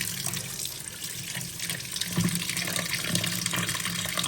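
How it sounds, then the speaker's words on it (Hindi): Tap water runs steadily into a sink while raw chicken is washed, a continuous close splashing flow with slight surges and no talking. "चिकन को वॉश करना बहुत ज़रूरी है"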